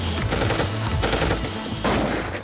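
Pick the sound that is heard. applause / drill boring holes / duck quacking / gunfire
gunfire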